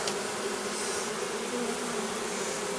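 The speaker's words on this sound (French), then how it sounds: "Là c'est une abeille, c'est des abeilles." Honeybees buzzing in a steady, continuous drone from a colony settled in an unusual spot, with no other sounds over it.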